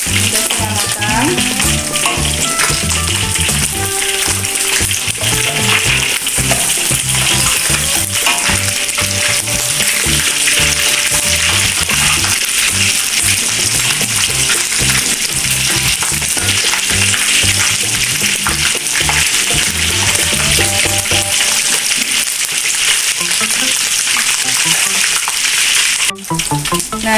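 Chicken pieces frying in a pan for ayam balado, a loud, dense, continuous sizzle heard close up, with occasional spattering and a brief drop near the end.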